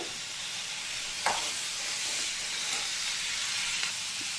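Potato and ash gourd curry frying in a pan, a steady broadband sizzle and hiss with a couple of brief clinks of a spoon against the pan partway through.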